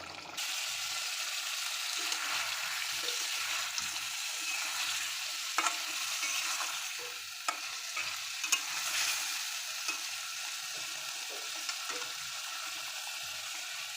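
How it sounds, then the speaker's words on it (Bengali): Small hilsa fish are stir-fried in a spice paste of chilli, turmeric and salt in a home kitchen, a continuous sizzle and hiss with occasional clinks of the spatula against the pan. "এখন আমি মাছগুলো ভালোভাবে কষিয়ে নিব"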